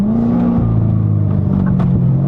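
A loud, close Corvette Stingray with an MBRP exhaust and catless AFE pipes rumbles and revs, pitch rising and falling in a couple of throttle blips over a deep idle.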